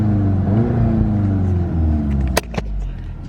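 Exhaust of a VW GTI MK8 revving to its limiter near 4,000 rpm, a loud, droning engine hum that holds steady then drops off abruptly with a brief pop and a clunk, recorded close up.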